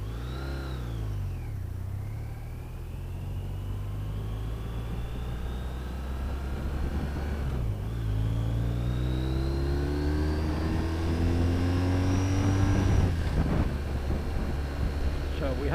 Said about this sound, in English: Jack is riding his bike Lima Foxtrot 16 Charlie Uniform Yankee.